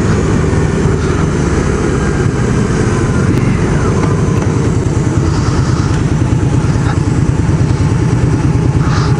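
A 1987 Honda Rebel 250 motorcycle with its thirty-year-old engine running, a loud, close, steady low exhaust drone with an even pulsing idle that holds unchanged throughout.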